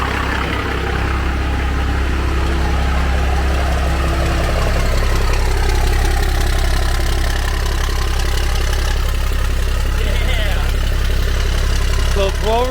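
A 351 engine fitted with a small blower idles on its first start-up, a loud steady rumbling drone running throughout while people talk over it.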